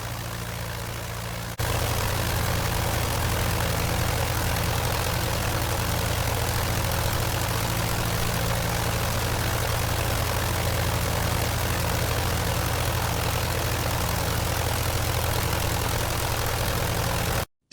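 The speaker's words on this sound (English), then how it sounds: "Sperry finally developed his aerial torpedo, a small unmanned aircraft based on his Messenger, controlled by autopilot and radio" A small early unmanned aircraft, an aerial torpedo built on a Messenger airframe, with its engine droning steadily and loudly, a low even hum that starts after a brief quieter moment and holds without pause.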